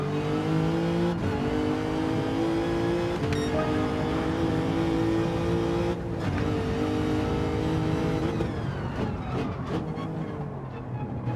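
Race car engine in Gran Turismo 7, a loud, close, steady high-pitched drone that holds through shifts and drops near the end as the car brakes and revs, with no talking.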